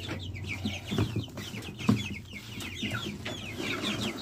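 Farm chickens cluck steadily and eagerly at feeding time, many overlapping calls from a nearby flock with brief louder squawks, no speech.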